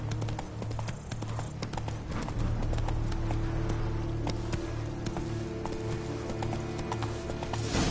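Horse hooves clip-clopping at a steady gallop in the video game The Witcher 3, loud and continuous with game background sound, little talk.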